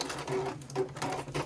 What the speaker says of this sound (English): Stitching to secure.